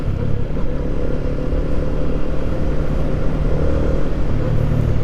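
Yamaha Sniper motorcycle engine running steadily up close, a continuous low rumble with faint clatter and slight changes in load, as if through gear shifts, with no voices.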